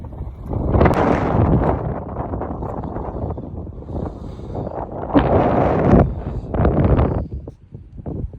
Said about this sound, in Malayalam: കാറ്റുണ്ട്.